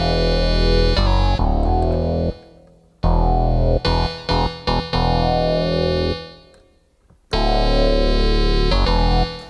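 Alesis Micron synthesizer run through an NTS-1 with delay, playing sustained, bright layered chords that cut off and leave echoing tails, with a quick flurry of repeated stabs in the middle, loud and close with no voices.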